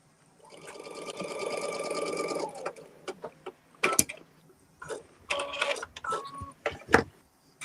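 A sewing machine stitching quilt blocks runs in one steady whirring burst, then in short stop-start spurts with clicks and handling noises between them, close and fairly quiet.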